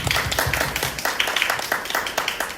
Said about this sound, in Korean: 정말 박수 한번 칠까요?